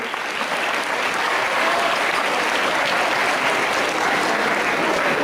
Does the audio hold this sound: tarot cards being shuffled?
no